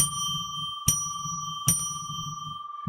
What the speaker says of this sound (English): first we'll ring a bell 3 times to declare sacred space